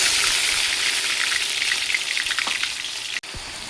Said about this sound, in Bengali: তেল গরম হয়ে গেছে, পেঁয়াজ বাটা দিয়ে দেব।